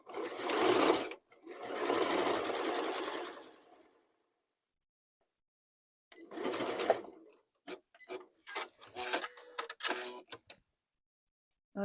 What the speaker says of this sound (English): I am just going to sew right beside that one